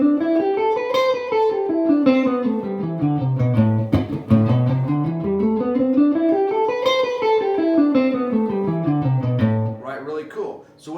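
A guitar plays a flowing minor pentatonic melody with a triplet feel, rising and falling in steady waves. It is close and clear and keeps going without a break for about ten seconds.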